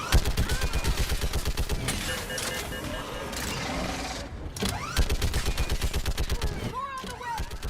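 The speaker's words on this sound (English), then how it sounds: "Keep firing! Enemy targets on the bridge!" A mounted gun in Mass Effect 3 fires at enemies on a bridge, loud rapid bursts hammering on in a steady rhythm with brief pauses and heavy battle noise around it.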